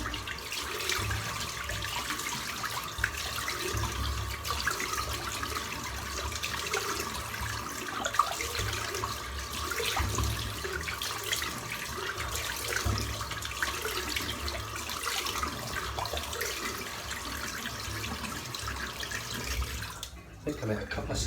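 Tap water running steadily as a safety razor head is rinsed under it, a close continuous splashing stream with a brief clink near the end.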